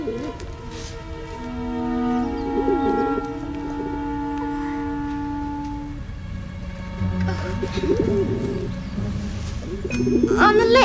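Pigeons coo in Rome, soft, throaty, repeated calls rising and falling over a steady background hum, with a louder burst of activity near the end.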